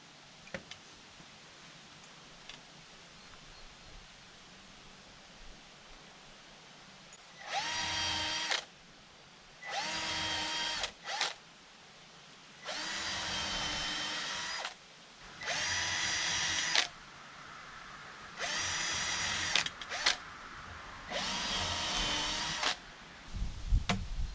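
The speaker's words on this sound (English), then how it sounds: "Drill." A power drill whirs in repeated bursts while drilling porch rafters, about seven runs of a second or two each separated by short pauses, fairly close and loud.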